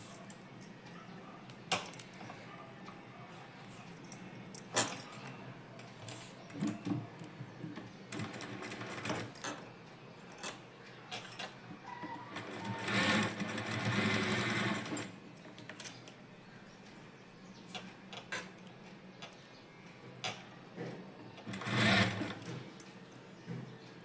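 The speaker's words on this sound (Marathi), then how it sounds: "आता व्यवस्थित बघत शिलाईवर शिलाई मारून घ्यायची." Sewing machine stitching lining onto a puff-design net sleeve, a steady close mechanical whir with rapid needle ticking, swelling in louder bursts around the middle and near the end, with no voices.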